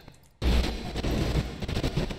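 Gunfire in a GTA roleplay game, starting abruptly after a short quiet moment and continuing as a loud, dense barrage of shots for about two seconds.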